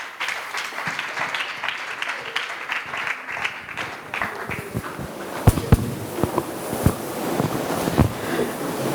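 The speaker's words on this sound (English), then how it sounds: "Let's welcome her with a round of applause." Audience applause at the 2021 Women in Finance & Investment Summit and Awards in Ghana: steady clapping from a crowd fills the clip, with a few sharper, louder claps standing out near the end.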